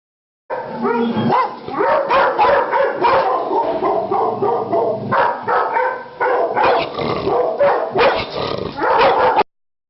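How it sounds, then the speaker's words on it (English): A fearful, tense dog in an animal shelter kennel barks loudly and close by as someone approaches, a rapid run of sharp barks and yips mixed with whimpers and low growls for about nine seconds. "we are going to meet a dog named Casper who is in an animal shelter"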